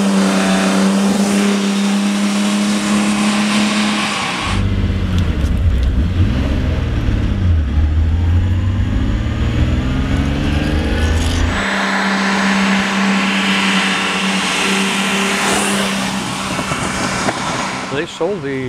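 A 1960s Lamborghini 400GT being driven, its engine running with a steady loud drone that shifts tone and pitch as it changes speed, while a person talks over it.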